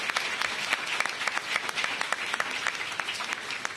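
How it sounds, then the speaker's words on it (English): An audience claps steadily at a government celebration of school test score gains. The applause is dense and sustained, with a few sharper individual claps standing out, and no one speaks over it. "Give yourselves a huge round of applause."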